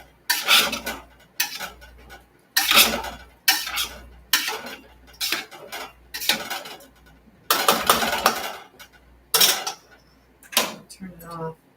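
Irish stew being stirred in a pot, with a spoon scraping and clanking against the metal in repeated bursts, close and fairly loud, with short pauses between strokes.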